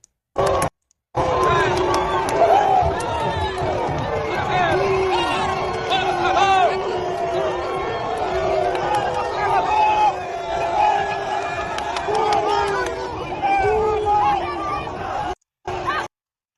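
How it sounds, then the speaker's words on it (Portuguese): A large outdoor crowd at a parade in Bahia, Brazil, roars and boos continuously, a dense wall of raised voices and shouting that fills the whole stretch. "E o pessoal foi recebido com vaia"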